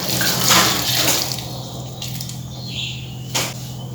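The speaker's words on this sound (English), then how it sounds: "Add water as required." Water pours and splashes into ground masala spices in a mixer grinder jar, a close, rushing trickle that fades to a thinner flow, with a brief splash near the end.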